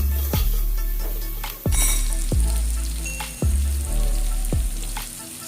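Steady sizzle of fish frying in a hot pan for sweet and sour fish, broken by several sharp scraping knocks of a spatula stirring at regular intervals, close and loud.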